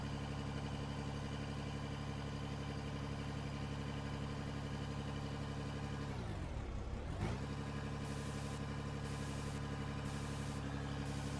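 A 10-ton truck engine in Out of Ore hums at a steady, even drone, dipping briefly in pitch midway as the load changes before settling back to its constant tone.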